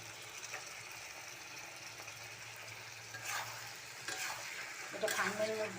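Farm chicken fries in a pan under a soft, low sizzle, with a few louder stirring scrapes toward the end and a brief voice at the close.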